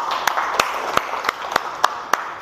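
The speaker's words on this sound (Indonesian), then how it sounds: "Tepuk tangan dulu untuk teman kalian." Classroom applause for a student, a few separate sharp claps in a slow, fairly regular rhythm over a quiet room hum.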